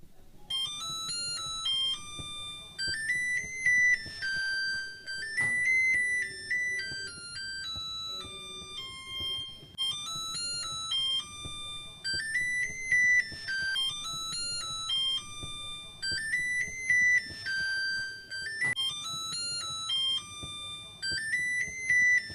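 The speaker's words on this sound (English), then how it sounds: "Let's run to our oven timer." An oven timer alarm rings in a repeating electronic melody of bright beeping tones, looping over and over at steady volume, with faint background noise underneath.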